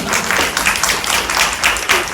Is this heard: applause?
yes